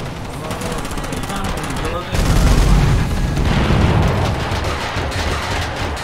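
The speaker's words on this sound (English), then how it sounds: "Die from a full barrage Help. Of missiles." A missile barrage in Totally Accurate Battlegrounds erupts into a dense, loud wall of booming explosions and crackling blasts, surging heavier after a couple of seconds and rumbling on steadily.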